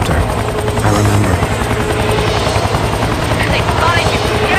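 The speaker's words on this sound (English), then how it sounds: "The helicopter." A helicopter in the video game XIII thrums with a steady, loud rotor chop that fills the whole stretch, with voices and game effects layered over it.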